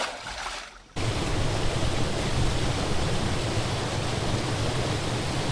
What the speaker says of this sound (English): Freshwater waterfall from the rain.